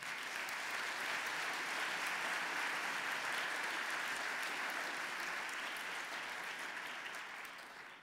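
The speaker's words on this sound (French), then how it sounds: "Je vous demande de les applaudir." Steady applause from a large crowd, clapping densely and evenly for several seconds before tapering slightly at the end.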